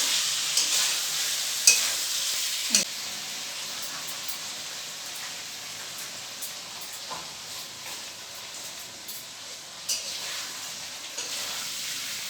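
Vegetables and fried paneer sautéing with spices in a pan for vegetable biryani, a steady bright sizzle with a few sharp spoon knocks and scrapes throughout, no talk.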